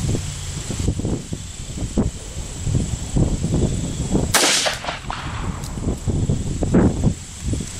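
A Blazier 158-grain .357 Magnum jacketed hollow point is fired into a pumpkin outdoors, giving one sharp loud report amid wind and rustling, with faint scattered handling noises before and after.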